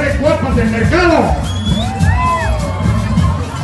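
A crowd of market women at a commerce parade shouts and whoops together, with loud, continuous, overlapping yells and cheers rising over constant street noise close by.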